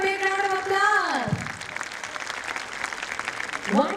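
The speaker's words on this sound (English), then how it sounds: "give them a big round of applause" An audience claps at a school annual day for grades one to four, a dense wash of applause that swells after a voice trails off, with another voice starting near the end.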